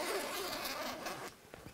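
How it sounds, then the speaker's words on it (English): A zipper on the door of a caravan awning is drawn in one quick, close, faint rasping run, trailing off into a few small rustles. "the whole outside door can be rolled away completely to either side because of those four zippers"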